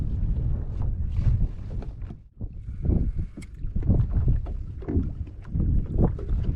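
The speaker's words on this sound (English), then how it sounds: "This wind is definitely making things interesting for sure." Strong wind buffets the microphone out on the water during inshore kayak fishing, a steady loud rumbling roar that surges and dips for several seconds with no voices.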